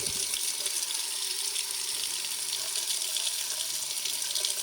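Steady water pours from a tap being checked by a plumber for hot and cold supply on a leaking spout. The flow stays constant and fairly close throughout, with no talk.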